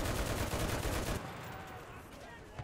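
Rapid, loud bursts from an M1919A6 machine gun in the WWII shooter Enlisted hammer out for about a second, then cut off, leaving quieter background battle noise and a faint distant pop near the end.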